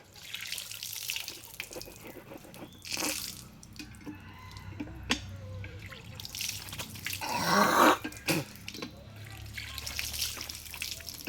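A tap runs into a sink during face washing, giving a steady close trickle with splashes and drips, and a louder gush of water near the end. Faint voices can be heard in the background.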